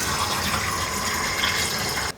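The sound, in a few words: hot water and detergent filling a minibike fuel tank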